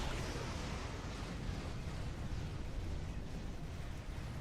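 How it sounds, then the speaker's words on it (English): Torpedo explosions in the space combat game Star Trek Online, a dense, rumbling roar of blasts running together at steady strength with no speech over it. "Torpedoes."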